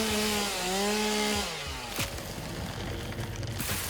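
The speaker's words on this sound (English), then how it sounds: "Okay, chainsaw." A chainsaw in the video game Satisfactory revs with a steady buzzing engine whine, then bites into wood with a rough, gritty cutting roar that continues loudly to the end, with no talking.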